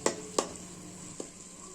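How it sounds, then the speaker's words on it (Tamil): A spatula stirs egg noodles with soy sauce in a pan, giving two quick knocks followed by a softer tap over a faint background sizzle. "சேர்த்துட்டு நல்லா ஒரு கிளறி விட்டுக்கோங்க."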